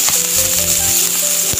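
Two chopped onions frying in hot coconut oil, a steady bright sizzle with faint stirring clatter, close and continuous with no talk.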